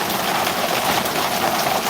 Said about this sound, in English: This is our first substantial rain for sure in 2 months.